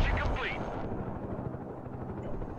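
A helicopter hovers and tries to land in the video game Broken Arrow. Its steady rotor rumble mixes with dense battlefield noise of gunfire and blasts, loud and continuous throughout.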